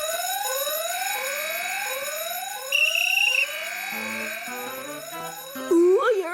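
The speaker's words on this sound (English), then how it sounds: "His presence trips the fire alarm" A school fire alarm in a cartoon episode blares as a loud, repeating rising whoop, with shrill electronic tones and a character shouting over it toward the end.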